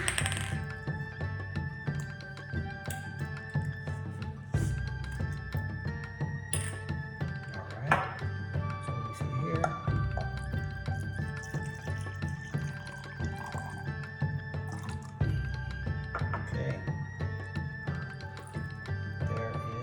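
A bottle of sake is opened and half a cup is poured while cooking miso glazed Chilean sea bass, giving light clinks and a trickle of liquid over a steady kitchen hum.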